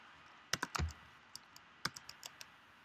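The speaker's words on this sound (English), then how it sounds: "Oh, Robert is typing." Computer keyboard typing in short irregular bursts of crisp key clicks, close and fairly quiet, with brief pauses between strokes.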